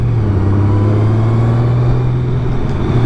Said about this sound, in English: we out on the Honda Goldwing